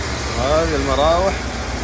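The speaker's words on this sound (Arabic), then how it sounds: "اسمع صوت المراوح ما شاء الله." Cooling fans of a 2014 GMC Yukon run with a steady, broad whooshing hum close by, and someone talks over the fan noise.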